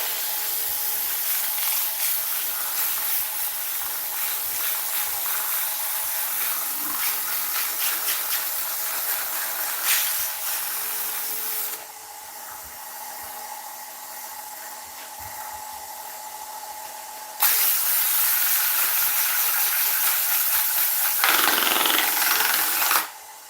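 Sanding a wooden bowl spinning on a woodturning lathe at 600 RPM, a steady close hiss and whir of abrasive on wood that changes as the sandpaper is lifted and pressed again, with no voices.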